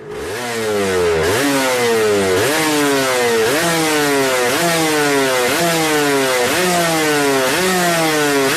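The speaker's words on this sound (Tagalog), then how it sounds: "Ang mga 2-stroke engine guys is talaga pong maiingay at mauusok" A loud 150cc two-stroke sportbike engine revs over and over in a rising, repeating pattern, buzzing and raspy, close by.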